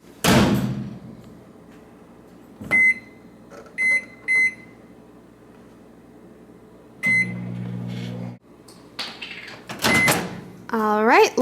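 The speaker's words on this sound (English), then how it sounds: "I'm going to put this in the microwave for 2 minutes." Kitchen microwave oven cooking low carb brownies: a row of button beeps, then a low steady hum of the oven running for a stretch, ending with more beeps and a door clunk.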